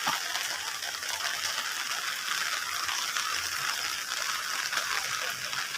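Steady hiss of rain falling on a surface, constant and fairly close, with no voices.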